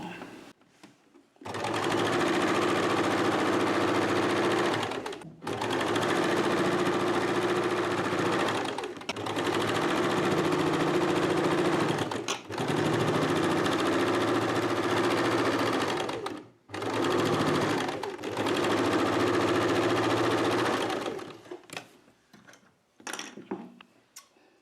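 Sewing machine stitching along a fabric edge, running in several long, loud bursts of rapid mechanical whirring separated by short pauses, close up, ending in a few faint clicks.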